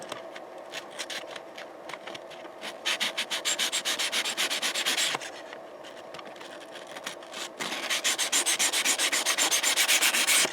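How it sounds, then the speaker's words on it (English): A small part from an Akai GX-270D tape deck under restoration is sanded by hand in rapid back-and-forth rasping strokes. The strokes run close and steady, with short pauses between bursts. "Give it a little bit of a sand. Give that one a little bit of a sand."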